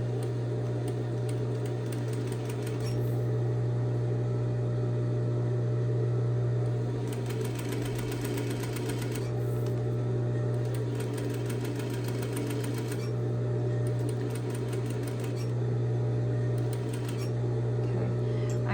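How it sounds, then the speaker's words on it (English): Sewing machine running steadily while stitching a half-inch straight seam with backstitching, a continuous mechanical hum with brief bursts of faster clattering, close and alone without talk. "I'm going to stitch and backstitch, keeping this seam at 1/2 inch"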